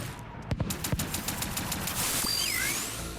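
Rapid bursts of gunfire in Warden's Will, a roguelike robot shooter, crack out as a quick string of sharp shots, then give way to a sustained whooshing energy blast with sweeping whine-like tones.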